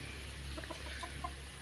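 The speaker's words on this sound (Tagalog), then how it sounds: "Ito may mga manok namin" Soft clucking of chickens scattered over a steady low outdoor rumble, faint and a little distant, with no talking.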